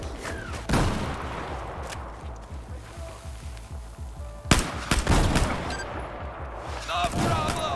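Gunfire and grenade launchers in Battlefield 4 crackle in repeated bursts, with sharp loud blasts near the start and midway over a rumbling battle din.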